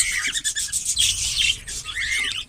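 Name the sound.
cockatiels chirping in breeding colony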